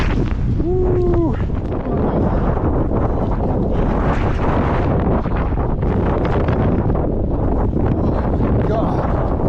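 Strong wind buffets the microphone on an exposed stretch of the Hadrian's Wall walk, a loud, constant roar that fills the whole clip, with a brief voice calling out near the start.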